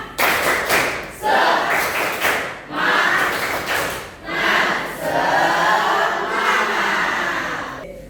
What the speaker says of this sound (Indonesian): yaitu dengan tepuk semangat ya